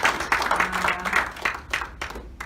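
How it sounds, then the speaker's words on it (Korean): Audience applause after a lecture at a Seoul reading-club gathering, a dense wash of many hands clapping that holds steady, then thins out and fades over a couple of seconds. "다시 한번 감사의 박수 한번 보내드리겠습니다"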